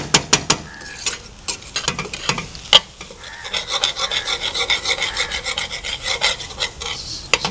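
A spoon scrapes and stirs thick mutton sukka masala, with onion and tomato, around a dry pan: close rasping strokes, several sharp taps early on, then a steady rhythmic scraping with a light sizzle and no talking.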